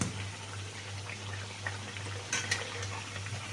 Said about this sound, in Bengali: এবার উল্টে দিচ্ছি এইভাবেই সবগুলো ভেজে নেব